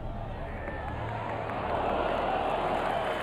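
Golf crowd at the Open on its feet applauding and cheering Padraig Harrington onto the final green, a steady broad roar of clapping that swells louder partway through.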